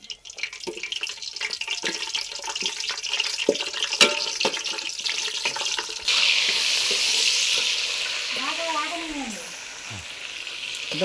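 Whole spices and green chillies frying in hot ghee, a steady close sizzle that swells louder partway through, with clinks and scraping of a utensil in the pan.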